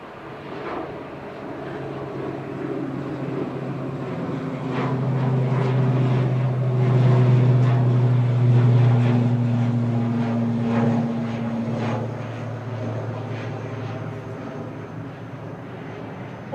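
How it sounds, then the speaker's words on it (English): ATR 72-600 turboprop airliner departs Manchester Airport for Guernsey, a steady propeller drone that swells in the middle and fades again, heard from a distance. "departing there to Guernsey with flight 679 ATR 72600"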